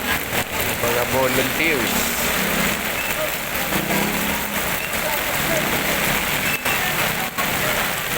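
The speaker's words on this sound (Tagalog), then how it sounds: "So, grabe talagang ulan at tubig ang dala po nito bagyong si Karina." Heavy typhoon rain pours onto a flooded Metro Manila street, a dense steady roar with an engine idling nearby and people talking over it.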